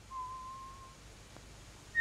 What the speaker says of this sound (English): he heard somebody whistling behind one of the closed doors